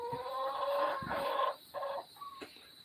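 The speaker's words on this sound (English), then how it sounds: "I have chickens and that's about it." Backyard chickens clucking close by in a few short, tonal bursts with brief gaps between, with no talking over them.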